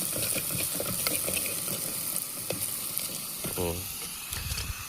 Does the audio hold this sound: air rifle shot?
no